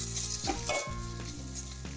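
Carrot sambharo sizzling in a pan while being stirred, with a continuous hiss broken by several scraping strokes of the spoon at an uneven rhythm, close and clear with no voices.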